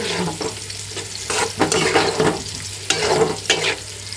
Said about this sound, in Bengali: তো মাছের তেলটা ভালো করে আমি মশলার সাথে কষিয়ে নিছি।